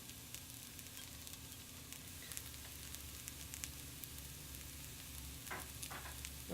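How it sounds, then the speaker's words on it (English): Onions and garlic sauté in a pan with a steady, low sizzle and crackle, occasional stirring scrapes breaking through the continuous frying hiss. "it's just going to saute for honestly a minute"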